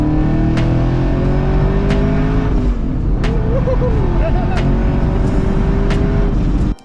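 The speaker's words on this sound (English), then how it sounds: "using my friend's 700 horsepower Pro Charge Camaro" A 700 horsepower ProCharger-boosted Chevrolet Camaro engine roars loud and close, a continuous heavy drone with shifting pitch and sharp clicks, cutting off abruptly at the end.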